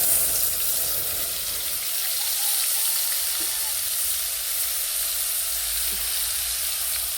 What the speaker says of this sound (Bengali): এই যে তেলের সঙ্গে আবার কষে নিচ্ছি